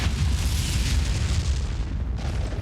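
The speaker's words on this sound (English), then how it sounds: "The tanker aircraft exploded, killing all 4 crew members." Tanker aircraft exploding in mid-air during a bomber refuelling mishap: a sustained, loud, roaring rumble of blast with dense low-end boom and broadband noise, steady throughout with a slight shift near the end, no voices.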